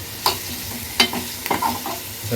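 Chana dal roasts in a hot pan for idli chutney with a soft sizzle under several sharp scraping stirs of a spoon against the pan, no talking.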